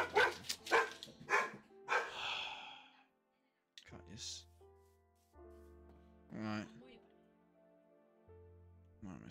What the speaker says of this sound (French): Non, il va japper, il va faire japper.